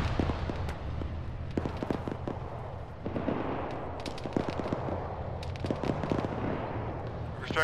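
Dense gunfire crackles through an Arma military battle, with sharp shots and rapid bursts at varying distances over a steady rumbling bed, and faint radio-style voices talking underneath.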